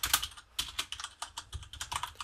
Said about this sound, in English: which we can do by typing Bower install